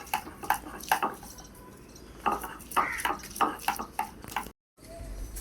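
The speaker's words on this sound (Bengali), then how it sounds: "এইভাবে করে সম্পূর্ণ মশলা আমি শিলপাটায় বেটে নেব।" Spices such as garlic, cumin, onion, ginger and chili are ground on a shil pata stone slab: close, rhythmic scraping and knocking strokes in short bursts, then a sudden brief silence.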